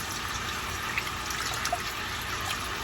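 Two cups of water poured and mixed into a chicken tagine marinade over onions, herbs and spices: a soft, steady trickle and faint liquid splashes, close by and without talk.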